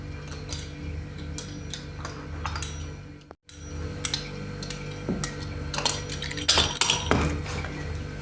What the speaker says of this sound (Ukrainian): Тепер кожну полоску будемо нарізати ромбом. Всередині кожного ромба прорізаємо дірку.